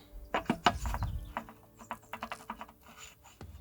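Loose, worn bushings on an old machine being worked back and forth, producing a run of irregular metallic clunks and rattles, some close and heavy, others lighter and quicker.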